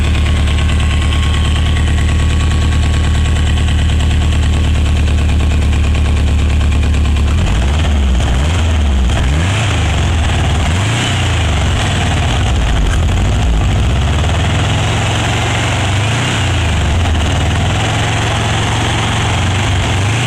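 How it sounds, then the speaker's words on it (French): A Volkswagen Beetle engine, a Mexican-built car, cranks and catches after a steady hum, then settles into a loud, close, lumpy idle that runs on without talk. "on va faire démarrer ce moteur et vous allez entendre ce petit bruit"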